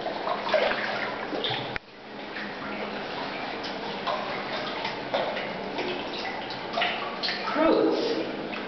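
Water flowing among boulders inside Tubo-Tubo Cave, a steady splashing trickle with ticking drips, close and continuous, with a short break partway through and a voice briefly heard.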